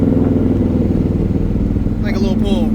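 A Corvette engine pulling hard right after a downshift, a loud, steady, throaty rumble running throughout, with a voice briefly speaking over it near the end.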